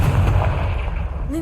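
Confringo blasting spell explosion in Hogwarts Legacy: a loud, dense burst of rumbling blast noise with low boom energy, fading slightly toward the end.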